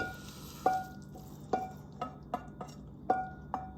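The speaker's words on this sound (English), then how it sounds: "just kind of spoon it into your tomato soup and milk" A spoon scoops a casserole mixture into a pot of tomato soup and milk, giving a series of soft, evenly spaced clinks and wet taps against the metal, quiet and close with no voices.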